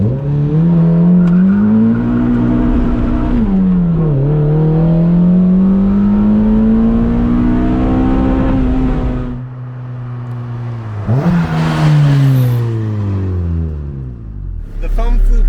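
K24-swapped Mazda Miata MX-5 pulling hard through the gears, a loud engine climbing in pitch through a long run with a shift dip, then a second surge, heard close with some voices over it.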